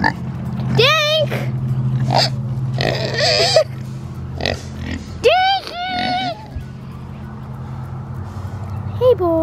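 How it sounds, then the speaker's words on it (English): Pigs on a farm grunting and squealing in short bursts, several loud close calls, with people talking in between. "The pigs woke up."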